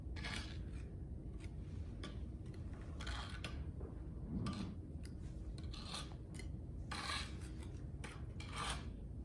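A hand scraping tool drags across a gritty grog layer on a lost-wax mold, repeated rasping strokes in an irregular rhythm, close and quiet over a steady background hiss.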